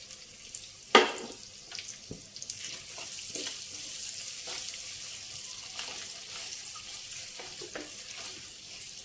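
Onion and green chili sizzle in a hot pan for a Telugu cucumber and toor dal curry, with steady frying hiss and scattered stirring scrapes and taps, one sharp clatter near the start.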